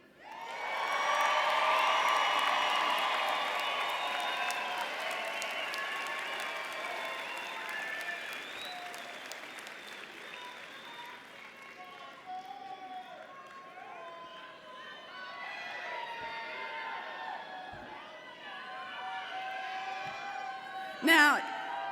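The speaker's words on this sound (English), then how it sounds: "I can tell from that round of applause that there are some happy people in this pavilion today" Large audience in a pavilion at a university social work commencement ceremony applauds and cheers, a loud sustained roar of clapping and whoops that slowly fades, with voices calling out throughout.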